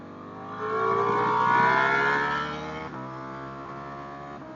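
A motorcycle engine on a race track swells loudly as it accelerates, its whining tone climbing in pitch, then settles into a steadier, slightly quieter drone after a brief shift.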